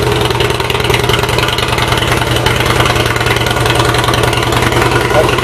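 A Harley-Davidson Heritage Springer motorcycle engine idles loudly and steadily nearby, a throbbing, even pulse with no revving, filling the whole stretch.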